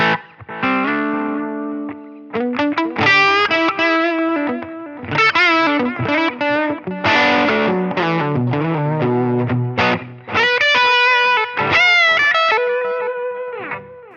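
Electric guitar through a Voltage Queen amp model with stock settings, delay and reverb, distorted chords and single notes ringing out loudly with echoing tails, no voices.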